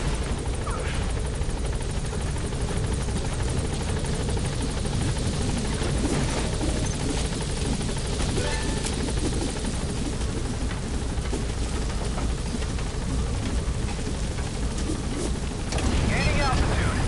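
The Pequod helicopter in the Metal Gear Solid V video game, a loud continuous rotor and engine roar that fills the whole stretch, steady and close, with faint voices underneath.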